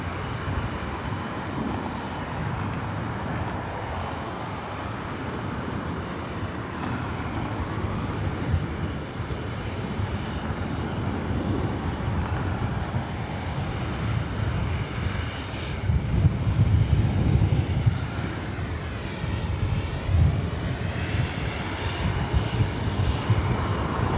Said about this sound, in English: Southwest Airlines Flight 4663 heading to St. Louis in the 737-800